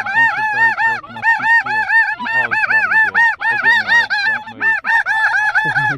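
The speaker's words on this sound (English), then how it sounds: "A bunch of snow geese." A flock of snow geese honking overhead during a hunt, a dense, loud chorus of overlapping nasal calls that continues without a break.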